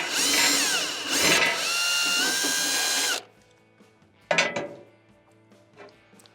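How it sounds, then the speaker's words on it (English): Power screwdriver whirring loudly for about three seconds while burner screws are removed from a Whirlpool gas stove, followed by a short metallic clatter of parts being handled. "Remove your screws for your burner."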